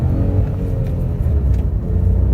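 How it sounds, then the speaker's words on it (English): A 2019 Honda Civic Turbo Premium petrol car is floored in first gear while joining a motorway, giving a steady, loud engine drone and road rumble that holds throughout with no talk. "floor the car."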